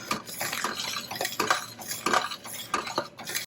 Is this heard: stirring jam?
yes